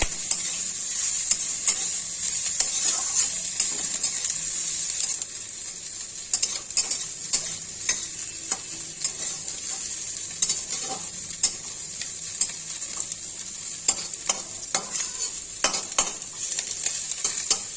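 Tangra fish fry in oil while being stirred, a constant bright sizzle broken by frequent clinking, scraping strokes of a utensil against the pan, heard up close without speech.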